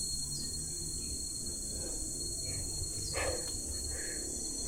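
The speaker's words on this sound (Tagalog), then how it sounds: "Ganyan guys, kuliglig ba yan?" Crickets chirp in the trees at a quiet, deserted spot, a steady high-pitched drone running through the whole stretch with faint scattered calls over low background rumble and no talking.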